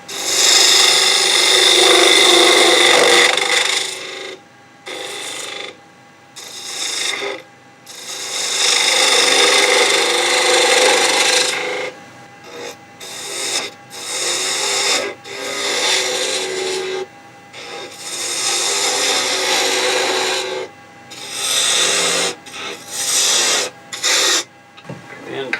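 A turning tool rides the bevel across spinning wood on a lathe, taking a peeling cut on a big bead for a knockout bar. Loud, rasping scraping comes in repeated passes of several seconds, broken by short pauses, with no talk.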